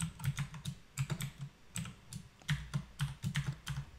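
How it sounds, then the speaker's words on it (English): Someone typing a password on a computer keyboard: soft, close keystroke taps in quick uneven bursts with brief pauses, quiet overall. "And the password actually here, I'm going to type it in."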